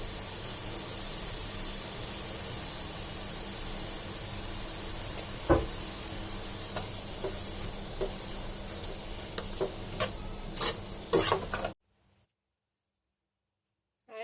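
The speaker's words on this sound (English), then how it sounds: "Mix it in a medium flame" Schezwan noodles are stirred in a pan over a medium flame, with a soft sizzle under scattered scraping and tossing sounds that grow busier. The clip ends in near silence.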